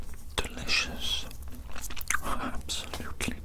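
Chewing gum is chewed close to the microphone with wet, sticky mouth clicks and smacks in an ASMR setting, mixed with soft whispery breathing.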